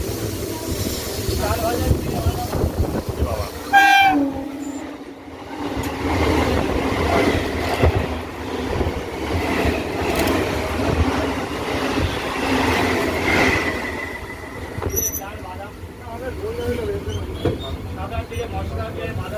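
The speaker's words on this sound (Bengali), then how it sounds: "ট্রেনটা তো স্লো হয়ে গেল, কোনো জায়গায় সিগন্যালে দাঁড়াতে পারে" A suburban train bound for Sealdah near Barrackpore rumbles and rattles along on its rails, easing its pace, with a steady carriage roar and faint wheel squeals beneath muffled voices inside the coach.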